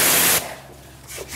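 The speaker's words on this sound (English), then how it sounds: "I think that's the sweet spot for pressure washing a car." A pressure washer running at about 2 gallons a minute sprays a Nissan R34 GT-R V-Spec as a loud, hissing blast that stops abruptly. Quieter hiss and spray follow.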